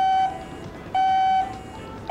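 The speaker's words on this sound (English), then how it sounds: "When an alarm goes off," A personal oxygen monitor alarm for oxygen-deficient areas sounds in loud, steady electronic beeps, three bursts of a single high tone repeating at a regular rhythm, close and alone.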